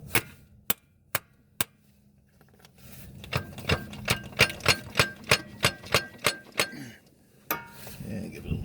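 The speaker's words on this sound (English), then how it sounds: "So we're just gonna use a plastic hammer." A plastic hammer taps a CV axle into place on a 2004 Honda Pilot: four spaced knocks, then a quick steady run of a dozen taps, one more after, with faint talk and shuffling underneath.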